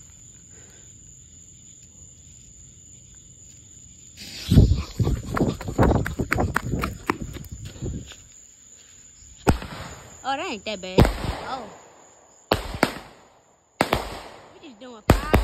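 Fourth of July fireworks bursting outdoors: rapid volleys of sharp cracks and crackling pops in dense clusters, then several loud separate booms, with people talking and exclaiming between the blasts.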